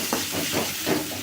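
Onions and tomatoes sauté in a pan, a brief, close hiss of steam that swells in quick rhythmic pulses as the mixture is stirred.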